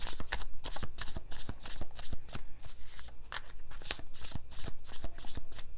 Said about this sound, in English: So let's pull a few cards here.